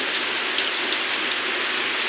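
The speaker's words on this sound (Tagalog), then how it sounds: "it's raining." Heavy rain pours steadily on an island, a dense, even hiss of downpour filling the whole moment with no voices.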